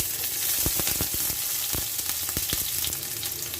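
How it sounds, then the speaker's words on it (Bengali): Cumin seeds and chopped onion frying in hot oil for a spinach and prawn curry, a steady close sizzle with scattered crackling pops throughout. "তেল গরম হয়ে গেছে এবার ফোড়নে দিয়ে দেব জিরা এবার দিয়ে দেবো পেঁয়াজ কুচি"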